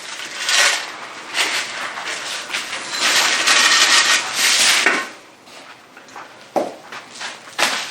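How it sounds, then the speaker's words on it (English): Wax sand being sifted into an empty cup, a soft, grainy hiss that swells and fades in uneven waves, with a few sharper taps and rustles toward the end. "let's just sift some dirt or some wax sand"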